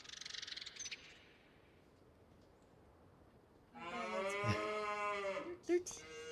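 Cows mooing in Farm Sim 25, a farming video game, with one long drawn-out harmonic moo in the second half after high chirping sounds and a quiet stretch.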